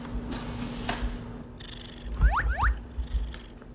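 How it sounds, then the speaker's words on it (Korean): A ten-year-old cat purring contentedly while carried on a person's back, with a soft low rumble and a few brief chirping trills close by, and no talking. "그르릉 그르릉 하고."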